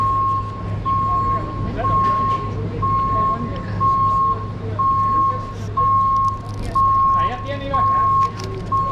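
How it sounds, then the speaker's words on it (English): A truck backs up on a busy Greenwich Village street in New York City, its reversing alarm beeping steadily about every second for the whole stretch over city traffic hum, while a person talks nearby. "Sorry about the noise, it's a truck backing up."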